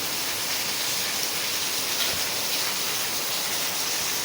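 Heavy rain pouring down at a studio after months of dry weather, a dense steady hiss that never lets up, loud and close with no talking.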